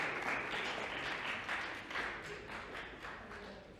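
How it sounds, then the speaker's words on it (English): An audience at a leadership summit gives a round of applause, a dense, moderately distant wash of clapping that fades slightly toward the end. "Okay, please, round of applause."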